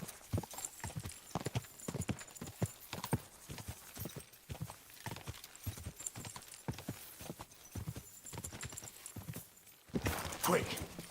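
Horse hooves clip-clopping in a steady, fairly loud gallop rhythm in Kingdom Come Deliverance 2, with a voice talking over parts of it and a brief louder burst near the end.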